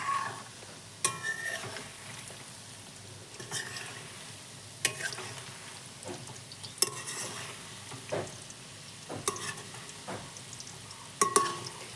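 Soybean pakoras frying in oil on a low flame, a soft continuous sizzle broken by irregular scraping stirs and light clinks of a spatula against the pan, fairly quiet and close.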